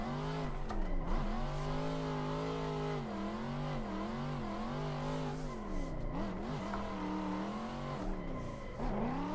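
A Mazda Miata in a racing video game, its engine revving up and down in steady sweeps through gear changes, with tire squeal mixed in, loud and continuous with no talk.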